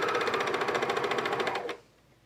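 A sewing machine stitches lace leggings with a fast, steady, close mechanical whirr. The needle's rapid rhythmic pulsing runs for about a second and a half, then the machine stops.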